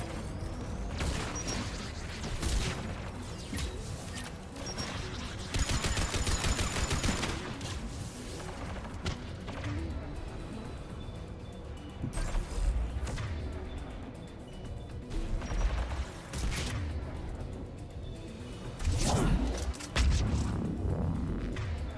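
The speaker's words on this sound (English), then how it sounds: "Damn rockets." Combat in Mass Effect 3 on Insanity difficulty, with steady gunfire, bursts of rapid fire and heavy blasts from rockets and explosions, loud and continuous throughout.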